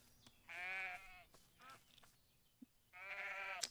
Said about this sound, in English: Trying to get that sheep to.